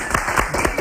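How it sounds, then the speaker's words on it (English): A brief burst of dense applause, many hands clapping steadily at a moderate loudness, with a voice faintly mixed in. "I got to applaud that."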